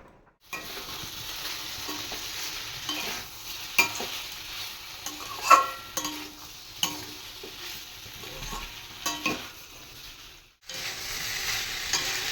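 Soybean chunks stir-fry in a small pot, a steady sizzle punctuated by repeated clinks and scrapes of a spatula against the metal, close and without talk.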